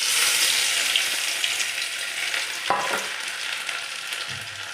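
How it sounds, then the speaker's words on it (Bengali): Finely minced garlic and ginger sizzle in oil in a wok while being stirred, giving a close, steady crackling fry with a few scraping stirs and a brief clatter, and no voices. "ছোট ছোট করে মিহি করে কাটা রসুন আর আদা কড়াইতে দিয়ে দিলাম"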